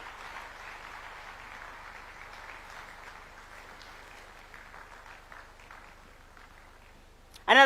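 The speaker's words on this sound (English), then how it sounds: "Another big round of applause for His Excellency." Applause for Kenya's President William Ruto as he comes to the stage at KICC: a dense, steady patter of clapping from a large audience fills the hall, with an announcer's voice faintly beneath it.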